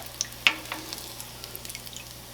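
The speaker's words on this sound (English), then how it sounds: "Yeah, these are frying up nice." Apple fritters frying in oil: the oil crackles and sizzles softly with scattered pops, a quiet steady frying sound over a low background hum.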